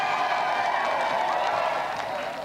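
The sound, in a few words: studio audience applause for a challenger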